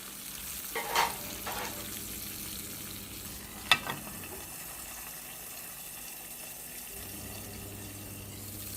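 Soft sizzling of eggs, moo yor sausage and Chinese sausage frying in a pan, quiet and steady, with a couple of brief clinks and stirring sounds.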